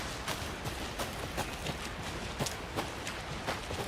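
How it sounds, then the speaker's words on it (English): Steady rain falls in the video game Alan Wake 2, a dense even hiss with scattered louder drop taps, moderately loud and continuous with no talking. "Should have brought an umbrella. I like the rain."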